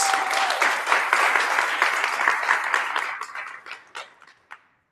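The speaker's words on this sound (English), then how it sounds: "can we give them a big round of applause?" An audience at a flute harvest gathering claps for the flute makers, a full burst of applause that gradually thins out into a few scattered, separate claps before dying away.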